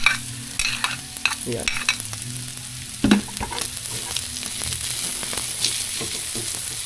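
Garlic, onion and ginger fry in a pan with a lively close sizzle, broken by repeated scrapes and taps of a spoon stirring, while a voice speaks briefly.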